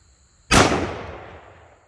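A single loud, close 10mm pistol shot from Fort Scott Munitions TUI 125gn ammunition, a sharp crack followed by a long decaying echo, with no other sound around it.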